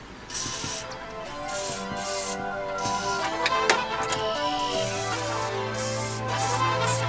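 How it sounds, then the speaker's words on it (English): Penetrating spray is sprayed onto the exhaust bolts of a 1973 Ford F-350 in several short, close hissing bursts, with light metallic clanks between them and a low hum toward the end. "we're going to spray it down with some penetrating spray so we can hopefully get those bolts out"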